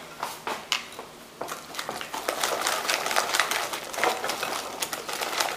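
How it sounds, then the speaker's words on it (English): A whisk beats low-carb waffle batter in a bowl, making a quick, close series of soft tapping and scraping strokes that speed into a steady rhythm. "I'm going to use the whisk and just get some of these lumps out"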